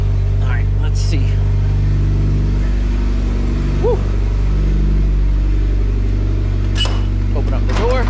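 A Mitsubishi Evo X MR idles steadily with exhaust leaks underneath, a loud, close, low rumbling drone holding constant throughout, while someone speaks briefly over it.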